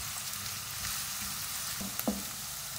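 Onions sauté in a pan for a cheesy baked pasta, giving a steady close sizzle with a brief clack of a utensil stirring near the end.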